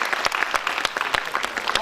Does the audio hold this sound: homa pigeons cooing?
no